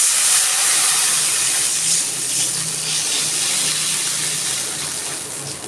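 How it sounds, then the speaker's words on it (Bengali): Water poured into a hot pan of fried potatoes, a steady loud hissing rush of steam and liquid that continues for several seconds with no pause, tapering slightly toward the end. "আলুটা আমার ভাজা হয়ে গেছে, এবার আমি দিয়ে দিচ্ছি জল"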